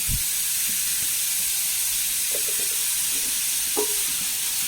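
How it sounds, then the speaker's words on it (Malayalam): Salted vegetables stirred in a hot pan, a steady sizzling hiss running throughout with a few soft scraping knocks of the spoon, close and alone with no talk. "നന്നായി ഇളക്കി കൊടുക്കാം"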